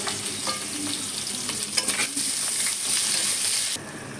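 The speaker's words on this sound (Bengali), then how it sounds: "সবজি দিয়ে নেড়ে ভালো করে ভেজে তারপরে মশলা দিবে" Mixed vegetables are stir-fried in a kadai, sizzling steadily close by. Scraping stirs and light clinks come through the frying, with no talk, and the sound cuts off abruptly near the end.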